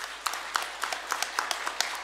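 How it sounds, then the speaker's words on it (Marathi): Scattered, faint handclaps from a small audience at a Marathi talk on farming, arriving in a loose, fairly even rhythm of single claps rather than a full ovation. "चला एकदा टाळ्या वाजवूयात"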